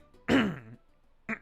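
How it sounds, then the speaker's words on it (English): A single throat clearing, close and fairly loud, followed by a brief second short grunt. "Let me clear my throat for dramatic effect."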